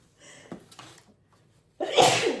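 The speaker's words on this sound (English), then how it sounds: "I'm going to sneeze." A single loud sneeze bursts out after a few soft breaths and a brief quiet pause, close and sudden.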